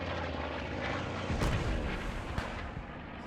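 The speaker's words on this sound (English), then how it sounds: "we hear a plane coming in" An aircraft flying in over a battlefield in the video game Post Scriptum, a loud broad roar that builds and swells, punctuated by a couple of sharp blasts or gunshots, with no talk.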